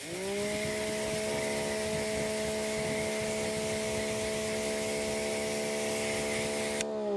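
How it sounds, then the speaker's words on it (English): Water spray rinses car wheels from bottom to top, a continuous hiss over a steady whining pump tone that holds evenly throughout before cutting off abruptly at the end. "I'm gonna go ahead and rinse from the bottom to the top just to spread this around a little bit"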